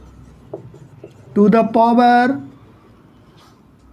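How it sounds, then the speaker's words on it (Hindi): A marker squeaks across a classroom board in two short, shrill, tonal strokes that stand out loudly over a quiet room, with a few faint taps before and after. "तो यहां पे मैं लिख देता हूं"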